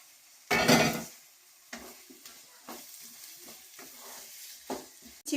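Fried potatoes are stirred in a pan, a loud burst of sizzling as they go in, then repeated scraping stirs with softer frying hiss between them and a final clink.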